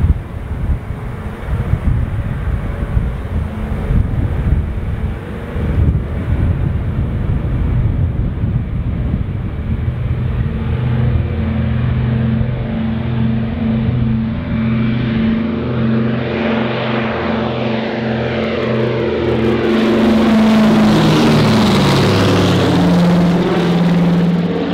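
Radial piston engines of a Douglas C-47 drone steadily in flight, a loud close continuous rumble with harmonic layers that shift in pitch as power changes, no talk over it.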